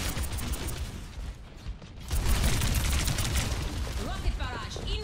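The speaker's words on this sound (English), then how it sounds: "Rocket barrage incoming" Rapid, dense rocket barrage fire in the video game Overwatch 2, a continuous crackling volley of blasts and mechanical whirring that swells louder midway and keeps going, with a voice talking over it.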